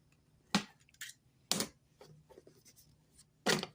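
Box cutter slicing open the cardboard packaging of a Craftsman brushless jigsaw CMCS650B, a few sharp scraping and tearing strokes up close with rustling between, no talking.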